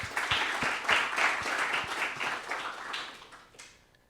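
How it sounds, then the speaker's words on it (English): Conference audience at a UC Berkeley product growth event breaks into applause, a brief round of clapping with a few sharp individual claps that thins out and fades away after about three and a half seconds. "let's give a round of applause for Sam."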